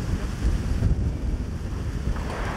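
Strong wind buffets the microphone aboard a boat at sea, a constant loud low rumble with gusty swells and a wash of water underneath, with no one talking.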